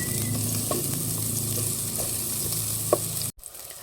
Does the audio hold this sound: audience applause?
no